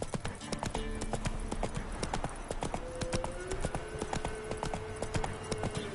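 Galloping hooves of Roach, the horse in The Witcher video game, a fast, steady clip-clop drumming close up over a low ambient bed, with a faint tonal game sound drifting through.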